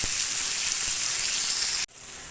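Onions and tomatoes sizzle steadily in a hot pan for sambar, a dense bright hiss close by that briefly drops off near the end before resuming more quietly.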